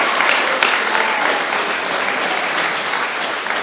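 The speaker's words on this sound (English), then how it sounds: "That's a round of applause for Claire." A crowd applauds the celebrant at a wedding ceremony, with dense, steady clapping that holds at an even level throughout and a few louder claps near the start.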